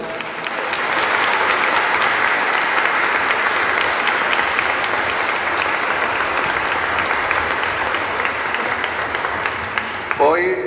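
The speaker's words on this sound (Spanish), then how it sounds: "Otro fuerte aplauso." A crowd of pilgrims claps strongly in a church gathering, sustained and even for about ten seconds before tapering off, with a voice beginning to speak near the end.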